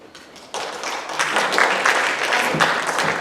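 Applause breaks out suddenly at a political debate and builds into a steady, fairly close round of clapping from a sizable audience.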